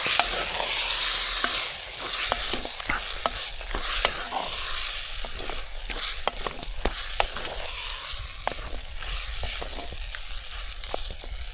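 Wild lemon pickle being stirred in a pan, a dense steady sizzle broken by frequent quick scraping strokes of a spoon, close and fairly loud with no talking.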